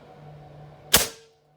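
A single sharp shot from a Benjamin Marauder .25 PCP air rifle fitted with a Gen 2 SS valve, firing a roughly 34 grain GSB pellet, a close crack that quickly fades out after a faint steady background hum.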